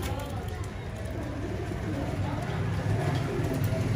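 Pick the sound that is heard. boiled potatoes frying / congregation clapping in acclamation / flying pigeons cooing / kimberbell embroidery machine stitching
flying pigeons cooing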